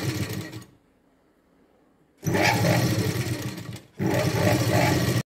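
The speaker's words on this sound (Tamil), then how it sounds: "இந்த மாதிரி நார்மலாக எப்பவும் போல் தையல் போட்டுக்கணும்." Domestic sewing machine stitching a size 44 blouse, running in loud steady bursts of whirring stitches: a short run, a long pause, then two longer runs split by a brief stop, with no talk.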